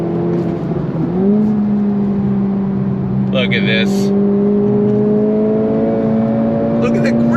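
A 2025 Acura Integra Type S engine pulls hard under acceleration, a loud, close, rising drone held steadily with tire and wind noise, while a person talks briefly over it.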